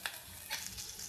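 Onions sautéing in a pan for pea usal sizzle and fry faintly, with a couple of stirring scrapes over the short stretch.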